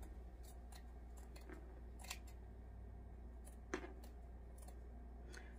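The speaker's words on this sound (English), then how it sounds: "And we're going to cut a little bit of the bulk off that extra seam" Scissors trim extra fabric bulk off a seam on a sewn bumble bee gnome, giving faint, close snips scattered irregularly over a low steady hum.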